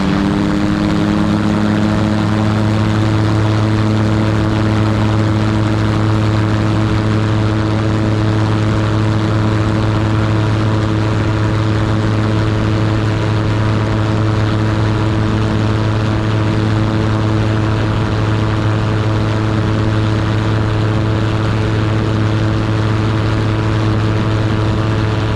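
Super Petrel amphibian biplane in flight, heard from the cockpit as a loud, constant propeller engine drone with a strong steady low hum throughout.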